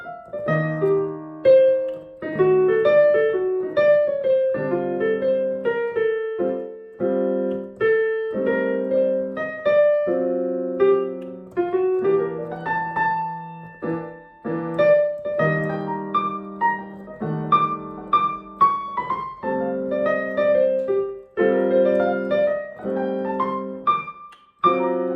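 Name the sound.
piano phrase over a jazz standard with one-note arpeggio lead-in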